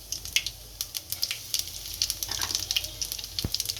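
Mustard seeds, cumin and asafoetida sizzling in hot oil for a potato curry, steady close frying hiss broken by a busy run of sharp spluttering pops and seed crackles, with a single low knock near the end.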